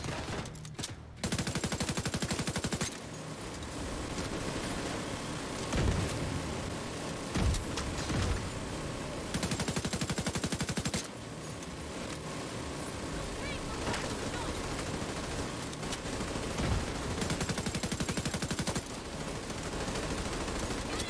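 A weapon fires in Division 2 as dense, sustained automatic gunfire. It carries through most of the stretch in loud, continuous bursts over game noise, with a voice talking over it.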